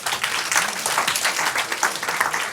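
A studio audience at a quiz night show claps loudly and continuously, a close, dense patter of many hands with no voices over it.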